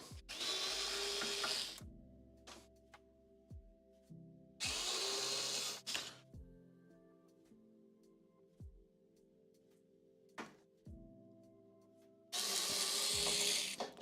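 A powered driver spins Phillips screws out of the front panel of a Skywalker coffee roaster, three separate whirring bursts with tinny metallic clinks and small screw rattles between them, close and alone.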